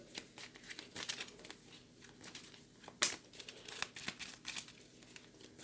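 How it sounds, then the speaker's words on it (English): A deck of cards for a board wargame is shuffled by hand, giving repeated soft riffling and crinkling bursts with one sharp snap near the middle, close and fairly quiet with no talk. "So here we go with a shuffle."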